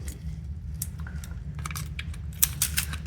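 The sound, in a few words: knife cutting up Brie cheese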